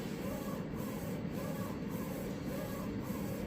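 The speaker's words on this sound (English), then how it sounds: "if we look in from the top, we can see that it has started to print" A DTF printer lays down colour ink and then white ink on top, giving a steady close mechanical whir with a faint rhythmic swish of the print head roughly every half second, with no talk.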